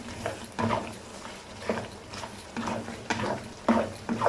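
Mutton frying with karahi masala in a wok, a soft, faint sizzle with stirring scrapes that come in uneven bursts over a few seconds, with no voices.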